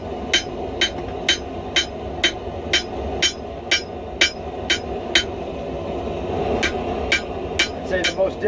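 A hammer forges a kitchen knife with about sixteen sharp, ringing metal strikes in a steady rhythm, close and loud, with a brief irregular cluster of blows at the end.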